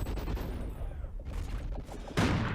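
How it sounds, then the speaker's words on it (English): Gunshots in a Call of Duty: Ghosts 4v4 Search and Destroy match, a muffled rumble of distant firing that fades, then a sudden loud close burst near the end. "Looks like Parasite firing some excess shots through"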